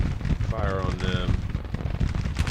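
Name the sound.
massed gunfire from Civil War game Grand Tactician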